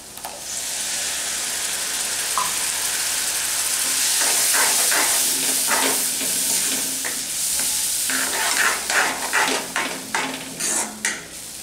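Tomato puree with ginger and garlic sizzling among spices and onion in a pan for Rajasthani gatta curry, a steady loud fry with a spoon stirring and scraping, the scraping quicker and more distinct near the end.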